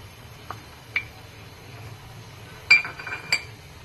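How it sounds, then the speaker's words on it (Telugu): Roasted cashews tipped into a pot of boiling Maggi masala semiya upma, giving a few sharp clinks of metal or glass that are light and scattered over a quiet background. "ఇప్పుడు మనం వేయించి పెట్టుకున్న జీడిపప్పులన్నీ వేసేద్దాం."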